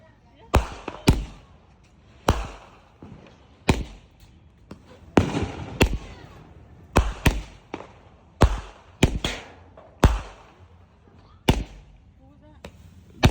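Fireworks burst outdoors in a New Year's celebration, a dozen or more sharp loud bangs coming at irregular intervals, some in quick doubles, with crackling tails and voices talking between them.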